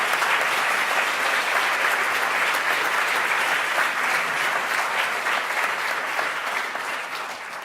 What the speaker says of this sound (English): I want to give one round of applause to the 77 people who have been demoing.